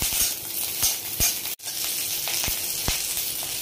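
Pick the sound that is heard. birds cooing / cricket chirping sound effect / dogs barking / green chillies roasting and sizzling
green chillies roasting and sizzling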